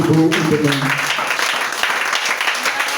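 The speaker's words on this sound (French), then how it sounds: "Je veux qu'on acclame Jésus pour la vie de mon père" Church congregation applauding and cheering for Jesus, a steady wash of clapping with a voice briefly heard at the start, close and loud throughout.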